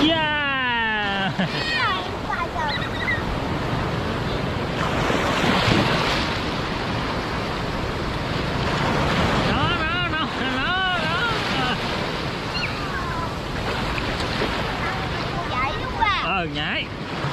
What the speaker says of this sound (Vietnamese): Sóng vào, sóng vào.